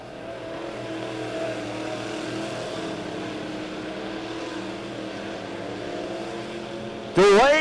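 Midwest Mod race cars lapping Lebanon Midway Speedway, a steady distant engine drone across the track, ending with a sudden louder rising whine as a car passes close.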